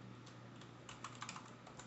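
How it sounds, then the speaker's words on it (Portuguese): Quiet typing on a computer keyboard, a loose run of soft key taps with a few slightly louder strikes near the end, with no voices. "Vou digitar"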